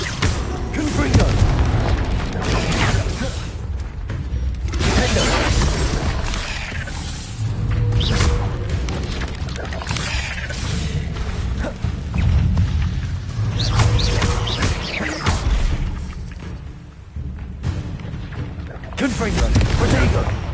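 Confringo blasting spells burst repeatedly in Hogwarts Legacy, loud booming explosions in bursts with mechanical clatter amid combat noise, while a voice speaks over the action.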